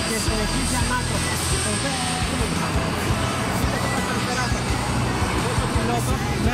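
An aerobatic airplane manoeuvres at the Athens Flying Week 2024 air show, its engine a steady, continuous roar that fills the air while a commentator talks over it.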